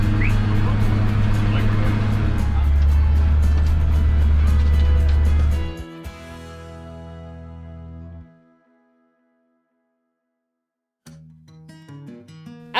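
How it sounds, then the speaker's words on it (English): A well-weathered repurposed milk truck driving out to the fields, with a loud low engine rumble that holds steady, then cuts out and falls silent before a fainter engine sound returns briefly at the end. "then it's off to the fields in a well-weathered, yet reliable, repurposed milk truck"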